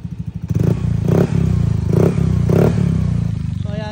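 A Mio Gravis scooter-style motorcycle fitted with a TRC exhaust pipe idles with a loud, throbbing putter, then revs in several close surging pulses, with a deep, full exhaust note.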